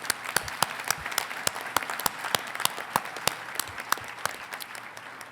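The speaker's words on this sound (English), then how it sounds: "let's just start with a round of applause for the Csu Brass Ensemble" A round of applause for a university brass ensemble at a veterinary college ceremony: many people clapping steadily, with a few distinct, closer claps popping out of the crowd, no voices.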